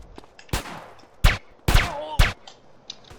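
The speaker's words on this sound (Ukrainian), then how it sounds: "Так, стріляють по нам." Four sharp, loud gunshot-like bursts from a GTA San Andreas video game in quick irregular succession, close and punchy, with quiet gaps between.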